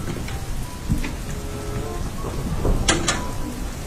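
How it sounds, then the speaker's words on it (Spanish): Heavy rain pouring down outdoors with thunder, a loud steady wash of rainfall hitting surfaces, with a few sharp cracks and rumbles of thunder near the end and no speech. "¡Ya empezó a llover durísimo!"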